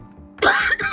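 A single sharp cough bursts out close by, followed by a brief second rasp, loud against a quiet background.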